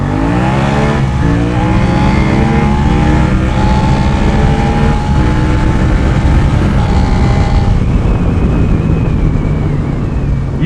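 Two motorcycles, a Suzuki SV650X and a Yamaha XSR700, accelerate hard from a standing start in first gear, engines revving loud and close with rising pitch and gear changes throughout, no talk.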